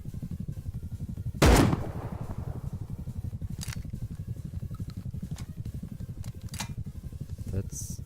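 Gunshot in the survival video game Rust, one sharp, loud crack near the start that rings out and fades, followed by a few fainter ticks over a steady droning background.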